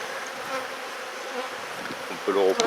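Honey bees buzz steadily around an open hive frame lifted out with a frame lifter. The dense hum carries throughout and swells louder and closer near the end.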